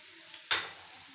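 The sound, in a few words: white cumin seeds sizzling in hot oil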